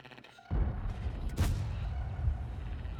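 A tank cannon firing in World of Tanks, a single heavy boom with a sharp crack, then a long rumbling tail, loud and close with no talk.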